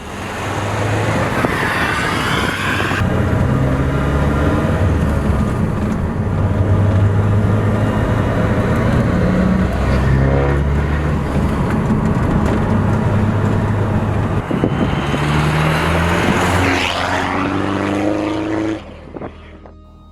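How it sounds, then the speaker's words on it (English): A straight-piped 2008 Saab 9-3 Aero 1.9TTiD wagon with a full 3-inch turbo-back exhaust and no boxes or resonators, its diesel drone rising and falling through revs for twenty seconds, loud and close, before cutting off near the end. "it's got a full 3-inch exhaust system right from the turbo. There's no boxes in it, there's no resonators"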